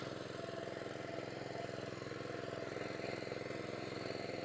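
A Japanese WB Agro India power weeder runs in a potato field as it earths soil up along the rows. Its engine gives a continuous, even drone at moderate distance, with no talk over it.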